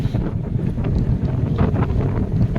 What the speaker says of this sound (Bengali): এই প্রচণ্ড জোরো হাওয়া আর বেশ ভালো বৃষ্টি পড়ছে